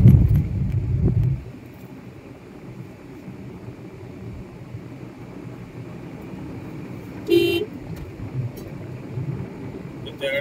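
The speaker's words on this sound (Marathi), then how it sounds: "त्याकडे बहुतेक वाहनांवर सावधतेने हॉर्न देऊनच पुढे चालू" Traffic passes along a rural road on the Virar to Trimbakeshwar route, with a loud engine rush at the start, then a steady road drone and a brief horn toot partway through.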